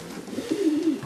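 A Janssen De Klak racing pigeon, a pure-bred bird, coos in a short, low, rolling phrase that swells and fades over about a second, close and clear with no other sounds.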